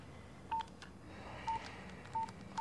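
A telephone number dialed on a keypad: four short, evenly spaced touch-tone beeps, clear and close against a quiet room background.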